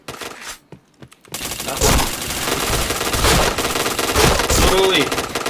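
Rapid automatic gunfire from the shooter game Point Blank, bursting loud and dense after a short quieter opening with a few isolated shots, continuing as sustained volleys with game sound effects layered in.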